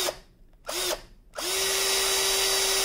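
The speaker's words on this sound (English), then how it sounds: "what's really important to me is making sure that when I drill this hole," A power drill whirs in two short bursts, then spins up and runs continuously with a high, steady whine while drilling a hole in a diamond painting multi-placer.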